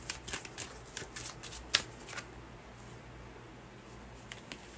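Tarot cards are shuffled close by in a quiet room: a rapid run of soft riffling flicks and slaps, with one sharper snap partway through, fading into quieter rustling.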